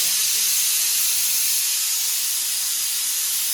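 Steam pours steadily from an idli steamer, a loud, continuous broadband hiss close by, unbroken for several seconds with no voices over it.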